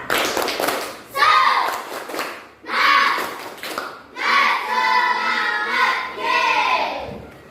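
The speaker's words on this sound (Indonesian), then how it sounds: "Tepuk semangat." A class of children performing a rhythmic spirit clap in a classroom, loud chanted voices in repeated phrases with hand claps woven into the pattern, close and energetic.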